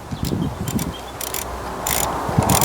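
Bolts being tightened on a Grey Fergie TEF 20 tractor during dash and bracket removal, a series of quick metallic ratchet clicks in short bursts, close by, with no talk.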